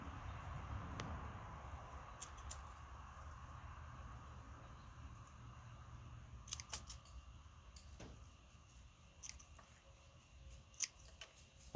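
Scissors snip through rose cuttings down to the stem, a string of quiet, sharp clicks spread unevenly over a soft background, with no one talking.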